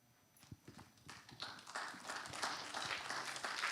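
Audience clapping after a poetry talk, starting as scattered claps and building into fuller, steady applause across a few seconds.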